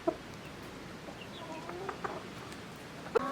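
Wyandotte chickens cluck in a farm flock, soft scattered clucks and a few brief calls over a steady noisy background, with one sharper call near the end.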